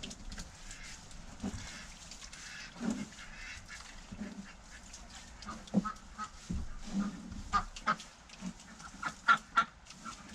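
Ducks quacking and honking intermittently, a few close calls standing out over quieter outdoor background, growing busier toward the end.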